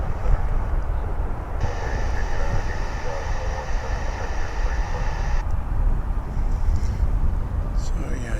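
A passenger jet in US Air Heritage livery, Flight 1599 bound for Las Vegas, at DFW Airport gives a continuous broad engine roar with a sustained whining tone in the middle, heard from a distance.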